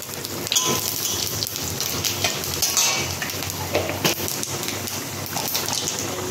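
Panch phoron five-spice seeds thrown into hot oil with fried red chillies for a sweet-sour hog plum chutney, giving a dense, continuous close sizzle and crackle with stirring taps.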